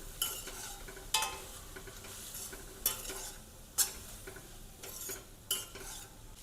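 Chopped vegetables with Maggi masala are stirred in a pan for street-style vegetable Maggi, a soft sizzle underneath punctuated by about six brief sharp scrapes and clinks of the spoon against the metal, close and unaccompanied by speech.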